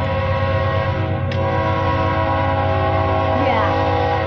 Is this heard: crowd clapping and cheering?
no